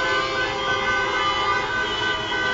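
Car horns sound in jammed traffic in Northern Cyprus amid celebrating Galatasaray fans, a continuous blaring honk tone over the engine hum of stopped vehicles, loud and close for the whole stretch.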